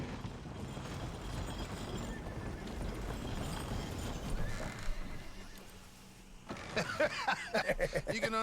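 Horse in the video game Red Dead Redemption 2 whinnies and clip-clops, hooves thudding steadily under a busy ambient background before a sharper burst of rhythmic hoof impacts near the end.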